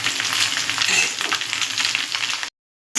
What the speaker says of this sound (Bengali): এবার আমরা ভাতটা দেওয়ার পর কিছুক্ষণ নাড়াচাড়া দেওয়ার পর এবার আমরা ডিমগুলোকে এর মধ্যে দিয়ে দেবো।